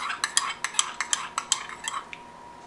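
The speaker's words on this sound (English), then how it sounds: "I'm stirring it." A spoon stirring a homemade dish soap mixture with lemon in a container, quick rhythmic clinks against the sides, about a dozen close, bright taps that slow and fade toward the end.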